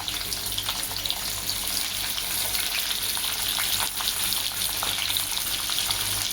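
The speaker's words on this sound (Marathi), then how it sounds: "आता आपण कांदा टाकून घेणार आहोत, त्याबरोबरच 1 मिरची सुद्धा टाकून घेणार आहोत।" Sliced onion and a green chili sizzle and crackle steadily in hot oil in a pan, with bright continuous frying hiss and occasional stirring, close and fairly loud with no talking.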